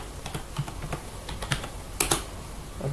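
Typing on a computer keyboard, a quick run of light, close key taps with a couple of louder strokes near the end and no voices.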